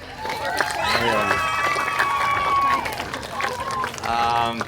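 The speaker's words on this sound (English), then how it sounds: "That's the most applause I've ever gotten" Audience applauding and cheering at the opening of the new inclusive playground at Lenape Park, a steady outdoor crowd wash of clapping with a few shouts, fairly close and sustained, while voices call out over it.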